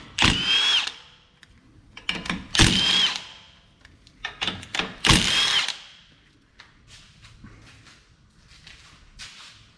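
Power tool spinning off three 16 mm nuts from ball joint studs on a VW Jetta during CV axle removal: three loud, close bursts of whirring and ratcheting, each followed by softer clinks and handling noises.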